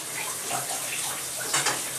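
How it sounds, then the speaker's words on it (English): Shower water runs steadily in a continuous hissing spray close by, with a couple of brief splashy bumps near the end and no talking. "Only one person can be in the flow of water at one time."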